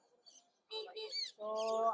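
Pet parrots call at a busy animal and bird market in Mirpur. Short, quiet chirps and squawks come in a few separate bursts with brief pauses, followed by a longer, harsher call.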